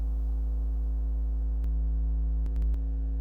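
In Stormworks, the massive doors of a nuclear power plant give off a steady, deep electrical hum with layered low tones, unbroken and close, with a few sharp clicks near the end and no talk.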